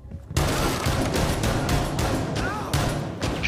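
Rapid gunfire bursts in the tactical shooter Rainbow Six Siege, a dense string of sharp shots running loud and close over about three seconds with voices mixed in.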